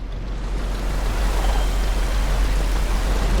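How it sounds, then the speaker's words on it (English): Ocean waves in the game Ships At Sea make a loud, continuous broadband rush of surf and churning water, steady throughout without pauses or voices. "Trying to surf these waves"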